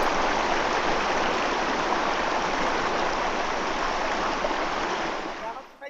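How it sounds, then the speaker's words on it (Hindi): Water rushing steadily under a small bridge, a loud continuous broadband hiss of flowing stream heard close up and uninterrupted, tapering off at the end. "यहाँ पर आपको पानी की आवाज सुनाई देगी, जो मैं आपको सुनाता हूँ। देखिए, सुन सकते हैं आप ये पानी।"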